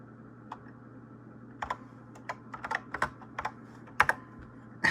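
Keystrokes on a NABU computer keyboard as commands are entered in a CP/M environment, close and crisp in irregular bursts of clicks with short pauses, no voices.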